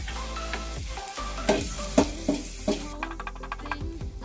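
Mustard seeds and turmeric sizzle in melted butter for masala oats, with a steady frying hiss broken by several sharp stirring clinks and spatters close by.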